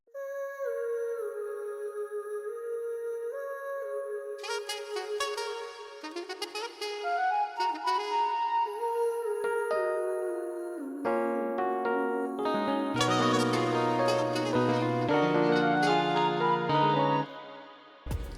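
A guitar afrobeat plays with vocals and a saxophone layered over sustained melodic parts, building denser and louder toward the end before stopping abruptly.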